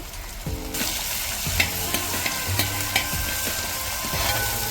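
Chopped ginger, garlic and shallots sizzle in a pan for a Kerala-style fish head curry, a constant close hiss broken by repeated scraping stirs, with no voices.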